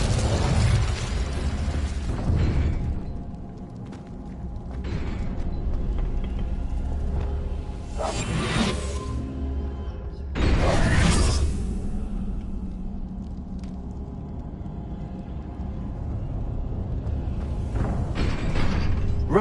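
Incendio fire spell cast in Hogwarts Legacy, heard as loud whooshing bursts of flame rising over a low rumbling background, with two strong flares and smaller crackles between them.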